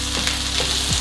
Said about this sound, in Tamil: இந்த இஞ்சியும் உள்ளியும் ஓரளவு வதங்கணும், நல்ல வாசம் வர மாதிரி